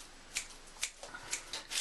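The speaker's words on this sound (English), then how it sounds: "with my coriander with the stalk, I'm using scissors here" Scissors snipping through coriander stalks in a kitchen while preparing Chinese spare ribs, several crisp quick cuts in an uneven rhythm, close and fairly loud.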